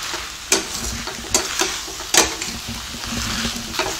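Fried cauliflower Gobi Manchurian with spring onion is stirred in a pan over a steady background sizzle. Four or five distinct scraping strokes of a spoon against the pan come at irregular intervals, and no one speaks.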